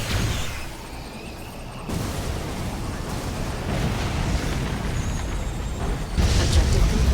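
An ion cannon strike in Command & Conquer 3: Tiberium Wars lands as a loud, sustained roaring blast. A dense rumble rises in stages, with a heavier surge near the end, under faint game voices.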